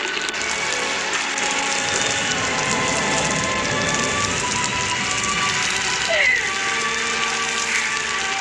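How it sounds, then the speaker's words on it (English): Steady rain patters continuously on surfaces, a dense, even hiss of drops throughout. "It's raining."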